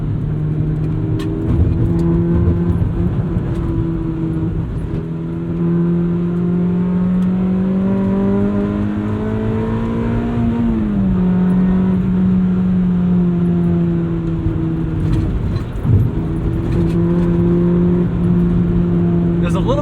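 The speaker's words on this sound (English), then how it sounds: "listen to it build and sing. It's a fun, buzzy little 4-cylinder" A 1997 Honda Civic Type R EK9 with its buzzy four-cylinder engine revs up through the gears from inside the car, pitch climbing, dropping briefly at a shift, then rising again, loud and continuous.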